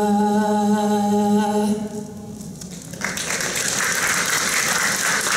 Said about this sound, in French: Elle mérite vraiment vos applaudissements.